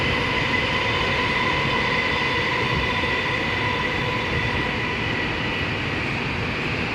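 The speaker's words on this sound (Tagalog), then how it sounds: "Yan ang train." A metro train passes with a loud, continuous rumble and rail roar that holds steady throughout, with a faint high whine from the wheels.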